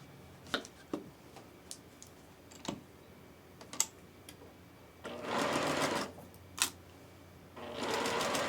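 Sewing machine chain piecing the seams of a Broken Dishes quilt block at a quarter-inch seam allowance; soft clicks and taps give way to two loud sustained runs of stitching, close and steady, with no talk.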